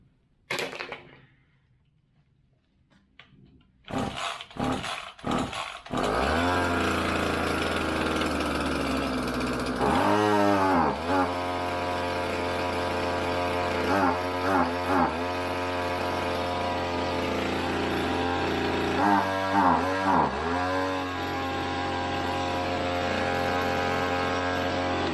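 Old forgotten two-stroke engine pulled over a few times, then catching and running on choke with open throttle, a loud buzzing drone with repeated revving surges and dips.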